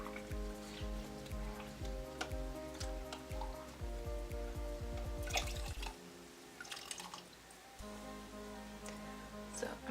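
Water drips and splashes as a makeup beauty blender sponge is wetted, with quick repeated patters over steady background music.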